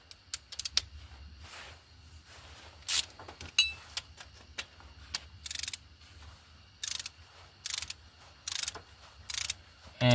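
Ratchet tightening thermostat housing bolts during a 2008 Dodge Charger water pump job, starting with soft clicks and then sharp, close bursts of ratcheting repeated in a steady series.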